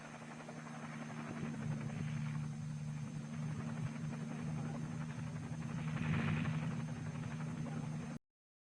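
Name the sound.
helicopter lifting Little John rocket and prime mover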